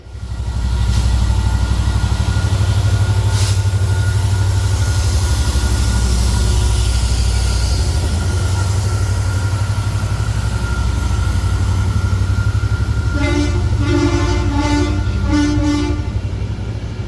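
A Transport for Wales Class 197 diesel train rolls into a station platform with a loud, steady engine drone and rumble, with a brief horn or tonal sounding near the end.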